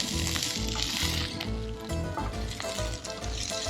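A pan of carrot, onion and celery sizzles at a campsite, a faint, crackling fry heard close up beneath a rhythmic low thumping in the background.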